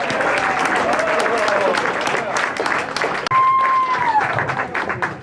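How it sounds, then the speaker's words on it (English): Audience applause at a July 4 celebration welcoming a Japanese delegation in the US, a dense, loud, sustained clapping from a crowd, with speech audible over it. "Let's give a big round of applause to world champion surfer Peter Townend, who's sitting right over ther"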